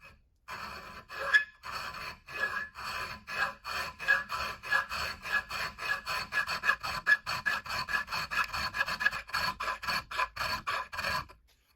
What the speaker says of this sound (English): then I can use the chainsaw file